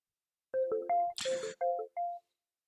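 Incoming-call ringtone from a computer or phone: a short series of bright electronic tone bursts with a noisy chime in the middle, clear and alone against silence.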